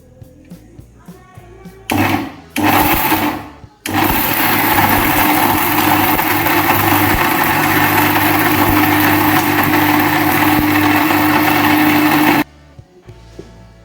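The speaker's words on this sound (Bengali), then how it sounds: "এবার আমি এটার ঢাকনা লাগিয়ে দেওয়ার পরে কিন্তু আমি মেশিনটা স্টার্ট করব" A grinding machine crushing spice mix for rohu fishing bait, a loud steady motor whine and rattle running for about nine seconds after a couple of short bursts, then cutting off, with no talk.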